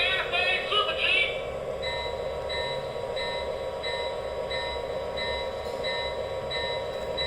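Lionel Santa Fe Super Chief model train set pulling away, a steady rolling hum with a repeating bright electronic tone pulsing about once every half second; a brief burst of recorded announcement or bell sounds opens the clip.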